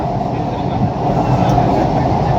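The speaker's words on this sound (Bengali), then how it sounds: "গঙ্গার নিচ থেকে পাস করছি, ঐতিহাসিক মুহূর্ত, ঐতিহাসিক জার্নি। ভারতবর্ষে প্রথমবার গঙ্গার নিচ থেকে মেট্রো।" Kolkata metro train running through the tunnel under the Ganges river, a loud, steady low roar and rumble heard from inside the carriage, unbroken throughout, with a voice talking faintly under it.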